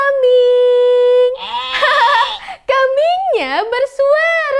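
A human voice imitates a goat bleating, a long steady tone followed by wavering, quavering calls, loud and close, in a toddler speech-learning song.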